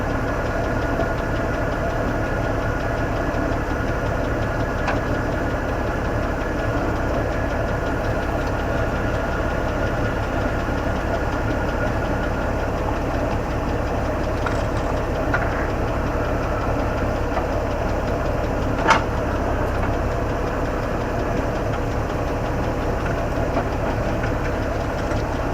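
A MIG welder working on a cylinder gives a steady, close crackling buzz that runs unbroken the whole time, with no voices.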